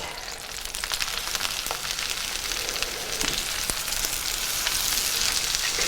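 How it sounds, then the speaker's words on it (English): Steady, dense sizzling of meat frying in a hot skillet, with occasional sharp pops and crackles, close and fairly loud throughout. "I want all the drippings from all the meat that's frying up"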